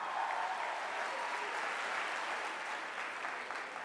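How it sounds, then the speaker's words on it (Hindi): Sustained applause from an audience cheering final-year engineering students fills the whole stretch, dense and steady clapping with no talk over it. "पहले तो एक बार फाइनल ईयर के लिए जोरदार ताली होना चाहिए।"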